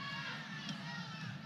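Packed new softball stadium roaring with a loud, steady wash of cheering fans during a curtain call, dense and unbroken throughout.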